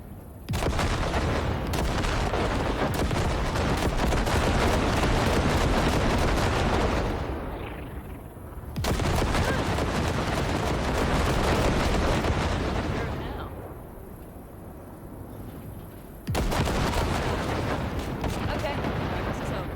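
Heavy weapons fire blasts ship wrecks in the video game Cyberpunk 2077, a loud, dense roar of shots and explosions running in long sustained bursts with brief lulls, with voices talking in between.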